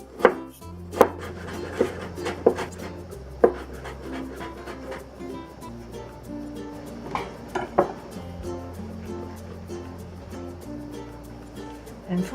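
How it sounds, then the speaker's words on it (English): A knife cuts ginger into thin shreds on a cutting board, giving sharp, close, irregular chops that come in quick bursts over a low steady background hum. "I'm cutting into thin"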